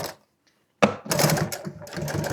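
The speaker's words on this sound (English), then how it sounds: "I'm going to be sewing on this listing right here." An upholstery sewing machine stitches listing onto a modern seat insert, a close burst of rapid mechanical clatter that starts abruptly after a brief pause and runs in choppy spurts.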